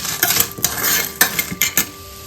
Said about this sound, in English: Let's dry roast all this ingredient.